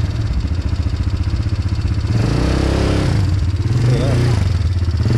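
A motorcycle engine runs on a street in Tulum, Mexico, with a loud, close, steady rumble and a brief rise in pitch partway through, while people talk over it.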